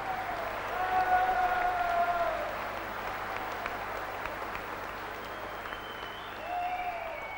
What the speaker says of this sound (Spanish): Fuerte el aplauso para el grupo de baile de la Escuela de Arte y Cultura de Wollongong.